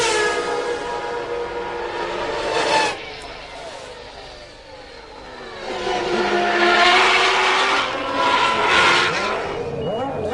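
1993 Formula 1 race cars scream past one after another, high-revving engines rising and falling in pitch as they approach and recede, with a loud pass, a quieter lull, then another surge, under commentary.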